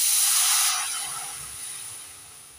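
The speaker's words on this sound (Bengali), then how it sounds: "গাজরের জুসটা কড়াইয়ের মধ্যে দিয়ে দিচ্ছি" Carrot juice hitting a hot kadai for chushi pitha dough gives a loud, bright sizzling hiss that bursts at once, then gradually softens to a quieter steady fizz.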